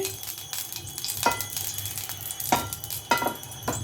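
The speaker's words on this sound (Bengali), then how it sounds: "এবার আমরা একটা প্যান গরম করে তাতে 1 টেবিল স্পুন মতো সাদা তেল দিয়ে দিলাম। তেলটা একটু সামান্য গরম হতে দিচ্ছি।" Refined white oil, about a tablespoon, heating in a pan with a light steady sizzle, broken by a few sharp metallic taps and scrapes of a utensil against the pan.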